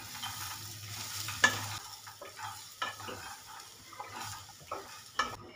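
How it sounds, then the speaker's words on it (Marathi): Peanuts dry roast in a pan over high heat, a soft scraping stir repeating with light rattles and faint sizzle, close by, with no talking. "मी शेंगदाणे भाजून घेऊया।"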